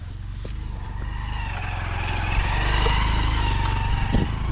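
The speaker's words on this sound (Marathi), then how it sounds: "गावाच्या शेतातून बघा टू व्हीलर चाललेली" A two-wheeler engine drones steadily along a track through village fields, a close, continuous low motor hum that swells slightly midway, with no voices.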